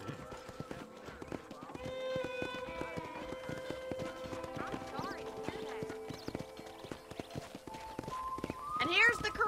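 Horses clip-clopping and whinnying in a ranch corral in the video game Red Dead Redemption, with hoofbeats repeating steadily and a louder neigh near the end, set against light game-style ambience.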